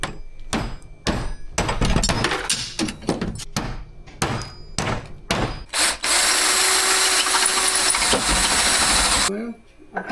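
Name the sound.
power drill drilling out Humvee door hinges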